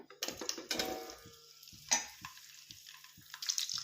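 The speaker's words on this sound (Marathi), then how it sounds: "या शेंगा आपण याच्यामध्ये थोड्याशा परतून घेऊया." Drumstick pods fry in a spoonful of oil in a kadhai, crackling in short bursts. Spoon scrapes and light metallic clinks are heard against the pan, then it goes quieter with faint ticks.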